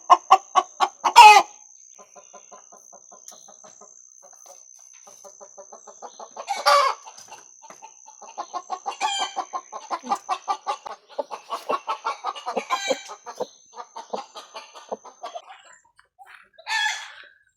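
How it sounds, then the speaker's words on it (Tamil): A fighting rooster in a spice garden lets out loud, harsh cries in a few separate bursts, with long runs of rapid rhythmic clucking between them, close and clear against a quiet background. "இது எழுந்து வந்துட்டு கத்திட்டு இருக்குது."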